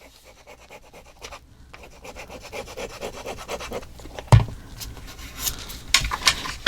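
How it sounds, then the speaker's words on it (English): Paper being burnished while making a craft mini album, a steady dry rubbing and scraping that builds in intensity, with one sharp tap and a few light scratchy strokes near the end. "Give it a little burnish."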